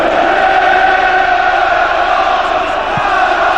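Anfield football crowd roaring and cheering near the end of a match, a dense sustained wall of voices with steady loudness throughout.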